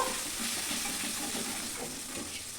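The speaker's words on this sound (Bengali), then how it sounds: "এবার সামান্য একটু কষিয়ে নেব।" Ginger, onion and garlic sautéing in a pan with a splash of water added, giving a steady, close sizzle with faint stirring and no voices.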